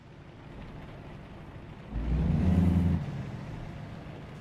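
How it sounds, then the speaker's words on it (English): A truck in a driving simulator game rumbles steadily, then swells into a louder, deeper engine roar for about a second before easing back to its idle-like drone. "Truck engine volume, yeah, maybe that's why."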